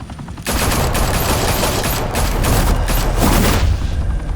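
Heavy gunfire in Batman: The Telltale Series, a loud, dense barrage of automatic shots that erupts abruptly and roars on without pause, close and overwhelming.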